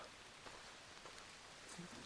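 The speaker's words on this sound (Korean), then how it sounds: "비는 엄청 내리지? 빗소리가 잘 담길지 모르겠네요." Heavy late-summer rain falls on Chukryeongsan mountain in Gwangju, a faint, steady, even hiss of drops with no voices.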